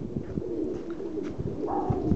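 Racing pigeons coo softly in a loft outside Paris, France, with low, repeated murmuring calls that stay quiet and close throughout.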